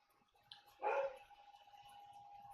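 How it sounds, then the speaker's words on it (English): A dog lets out one short, loud bark with a small yip just before it, then a steady background hum continues. "I know Isabel's barking"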